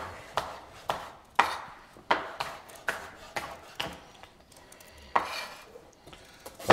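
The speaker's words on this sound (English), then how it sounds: "I take the wee top bit and we can cut them into little cubes as well" A knife chops a red pepper into small cubes on a cutting board, giving a close, steady run of sharp thuds and clicks with no voices.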